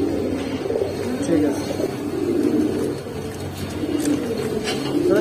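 Giribaz and pangkhi pigeons coo in a steady low murmur, with several birds overlapping close by and a brief spoken remark over them.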